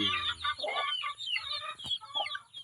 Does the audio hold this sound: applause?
no